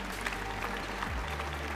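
Steady applause from the audience at a French bakery championship prize ceremony, continuous and even, with a low background hum.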